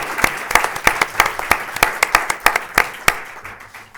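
A small audience at a foundation presentation gives brief applause, sparse and distinct claps in an irregular rhythm, close and fairly loud, thinning out toward the end.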